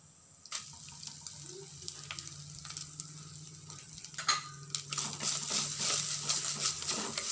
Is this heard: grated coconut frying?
yes